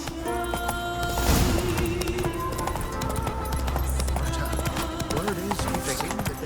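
Roach the horse gallops in The Witcher 3, steady rhythmic hoofbeats running under game music and a voice speaking throughout.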